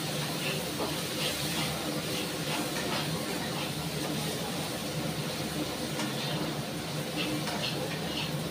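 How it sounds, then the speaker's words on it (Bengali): Masala spice mix with ground cumin frying in a pan, giving a steady, close sizzling hiss that runs unbroken throughout, with no talking. "এবার মশলাটাকে আমি খুব ভালো করে ভেজে নেব।"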